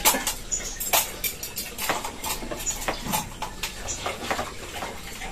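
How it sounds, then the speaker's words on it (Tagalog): A knife chops carrots repeatedly on a cutting board, sharp irregular taps knocking through the wood, close and brisk. "Carrots po yung ating hinihiwa muna ngayon."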